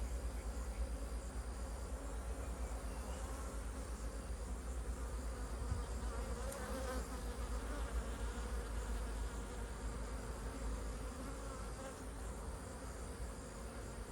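Honeybees drone steadily at an open hive in a cow pasture apiary, a dense continuous buzz close by that holds level for the whole stretch with no voices.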